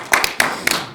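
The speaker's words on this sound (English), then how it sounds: "let's have a round of applause for that." A few scattered hand claps from an audience at a film festival Q&A after a feature film screening, a handful of sharp separate claps over about a second rather than full applause.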